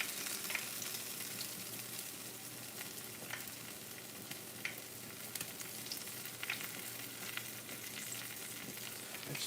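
Fish fries in hot grease with a steady, close sizzle, broken by crackles and pops, and no one speaks.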